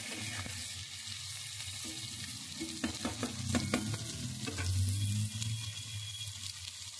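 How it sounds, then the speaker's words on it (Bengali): Sliced bitter gourd frying crisp in hot oil, a continuous soft sizzle with scattered crackles and a few spatula scrapes as it is stirred around the pan, no voices. "এটা কড়া করে ভাজবো, বুঝছো, কড়া করে ভেজে তুলে নেবো।"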